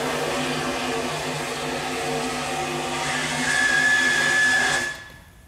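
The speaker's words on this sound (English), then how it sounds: "You just gently open the regulator valve, and you can start to hear that going now." A steady steam hiss and rushing roar builds as a steam locomotive's regulator valve is eased open, with a thin whistling tone rising, then cutting off abruptly.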